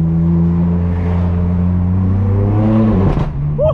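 A straight-piped BMW M4 F82 revs hard and accelerates, its loud, raspy exhaust note climbing steadily in pitch close by before a brief shift and settle near the end, with no talking over it.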